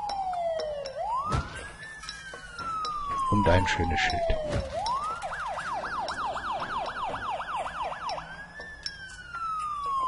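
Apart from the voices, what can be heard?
ambulance siren in video game SimCity 2013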